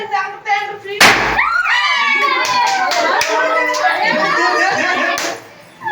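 Sharp bursts of firecrackers go off at a child's birthday celebration, one loud bang followed by several smaller pops, while children laugh and chatter loudly throughout.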